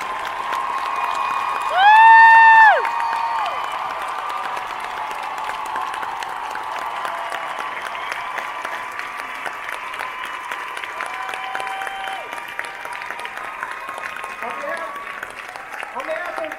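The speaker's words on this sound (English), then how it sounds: "please, round of applause for our cast" A large convention hall crowd at the San Diego Comic-Con Supernatural panel applauds and cheers the cast in sustained, dense clapping, with a brief high whoop early on.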